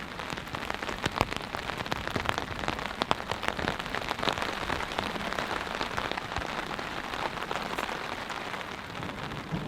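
Steady rain patters on a forest campsite during a storm, a dense continuous hiss of drops striking surfaces close by, with no voices.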